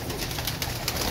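A female pigeon of the Tiger breed gives a soft, close, continuous cooing with a murmuring texture over about a second, with no voices.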